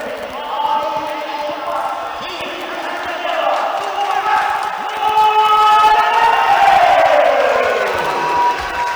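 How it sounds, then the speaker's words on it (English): A crowd at a fight event in Dunstable cheers and roars as a fighter makes his entrance, loud and sustained with whoops, while music and a commentator's voice run over the noise. "to an absolutely thunderous applause comes the Tooth"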